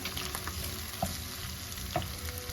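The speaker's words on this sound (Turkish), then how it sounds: "Yeterince kavrulmuştur kıymamla soğanım." Minced meat and onions frying in a pan for stuffed peppers, a soft continuous sizzle with two brief clinks of a spoon against the pan.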